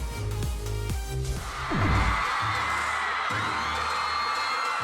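Music gives way to a broad roar of cheering K-pop fans at COEX in Gangnam, Seoul, the excited crowd noise swelling and holding steady at a moderate distance.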